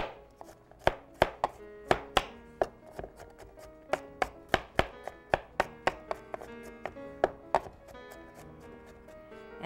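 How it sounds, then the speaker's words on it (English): A kitchen knife chops about four garlic cloves on a cutting board in a rapid, steady run of crisp, close knocks lasting nearly ten seconds. The strokes come in quick succession with no talking over them. "I have here about 4 cloves of garlic, more or less. And just give that a chop."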